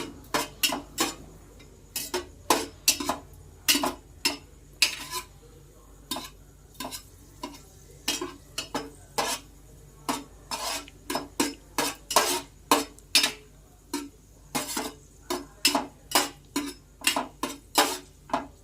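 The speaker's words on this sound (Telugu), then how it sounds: "నెయ్యి హీట్ అయ్యింది మనం ఇప్పుడు అందులో జీడిపప్పు పలుకులు వేసుకుని దోరగా వేపించుకోవాలి" Cashew pieces fry in hot ghee in a pan while a spoon stirs them, giving a quick, irregular series of sharp metallic clinks and scrapes over a faint, low sizzle.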